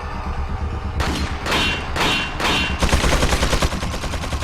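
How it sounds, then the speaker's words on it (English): Resident Evil 4 machine gun fire, a few loud separate bursts followed by a steady rattling stream of rapid shots, close and dominant with no talk. "You get fucking machine guns."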